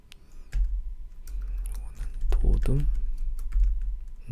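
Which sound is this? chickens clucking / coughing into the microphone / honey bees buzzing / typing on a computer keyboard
typing on a computer keyboard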